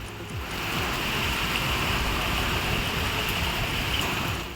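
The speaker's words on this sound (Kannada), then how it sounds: "ಬೆಂಗಳೂರು ದಕ್ಷಿಣದಲ್ಲಿ ಭಾರಿ ಮಳೆ ಆಗಿದೆ" Heavy downpour in south Bengaluru, Karnataka, a steady dense hiss of rain falling continuously and loudly with no pauses and no voices.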